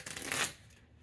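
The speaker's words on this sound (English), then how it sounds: "All right, time to shuffle." A deck of playing cards is shuffled in one quick riffle, a brief, soft, close fluttering burst lasting under a second, alone with no speech.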